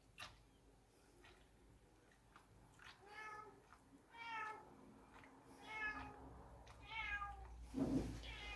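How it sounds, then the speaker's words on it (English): A domestic cat meows repeatedly at a closed door indoors, a series of rising, fairly loud calls spaced across several seconds, ending with a sharper louder cry, heard close by in a quiet room. "Give me a second, the cat wants to come in."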